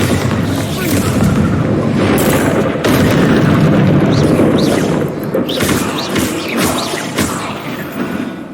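Repeated booming blasts from the Bombarda spell in Hogwarts Legacy, loud and dense, with sharp bursts over a continuous rumble of debris and action, a few crisp cracks standing out toward the end.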